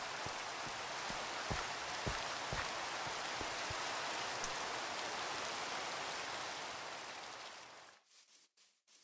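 Steady rain falls across a Minecraft world, a dense even hiss with scattered droplet taps, holding level for about eight seconds before cutting off abruptly into near silence.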